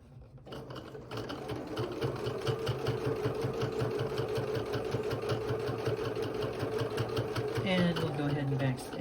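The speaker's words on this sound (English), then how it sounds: "we'll go ahead and backstitch" A sewing machine stitches a bag casing and then backstitches, its rapid needle chatter running steadily and up close for the whole stretch, with a brief shift in pitch near the end as it reverses.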